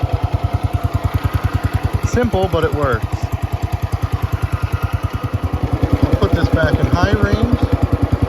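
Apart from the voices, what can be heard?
Cub Cadet 104 garden tractor engine running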